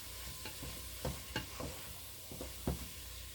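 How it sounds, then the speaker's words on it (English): Escarole and white beans with pepperoni stirred in a pot, a faint soft sizzle broken by several distinct scraping and clinking strokes of the spoon, close and quiet. "We're going to give it a stir and see."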